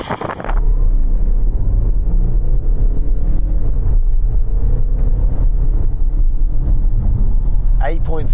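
A 2020 Audi with a 2-litre 204 hp diesel engine launches from standstill and accelerates hard, with a little wheelspin off the line. It makes a loud, steady, close engine rumble that runs without a break throughout.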